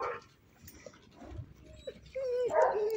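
A dog whimpers and yips in short, high, wavering bursts, loudest near the end, with indistinct voices and light movement in the background.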